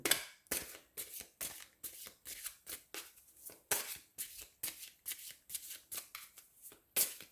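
A deck of playing cards is shuffled over and over, each riffle a quick papery burst in a steady rhythm, close and fairly quiet, with no one talking.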